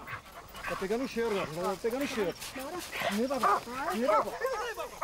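Several Redbone and Foxhound hunting dogs bay and yelp excitedly nearby, overlapping howls rising and falling in quick succession.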